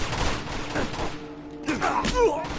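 Gunfire in the video game Uncharted 2 in brief loud bursts of shots layered with other game sound effects, with some voice-like sounds mixed in.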